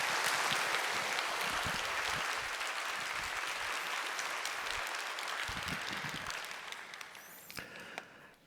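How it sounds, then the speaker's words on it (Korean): Congregation applauding in a church during a disabled persons' Sunday worship service to welcome a professor to the pulpit, a dense, sustained wash of clapping that holds steady for several seconds before tapering off at the end. "우리 큰 박수로 교수님을 모시도록 하겠습니다."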